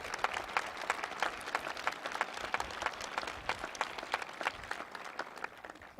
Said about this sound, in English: So give John Suthers a round of applause wherever he is.